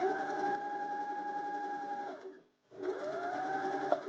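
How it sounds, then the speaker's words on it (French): A sewing machine stitches the parts of a fabric pouch together, humming steadily up close, stopping briefly, then starting again at a slower speed, with no talking. "Nous allons venir coudre toutes les parties entre elles."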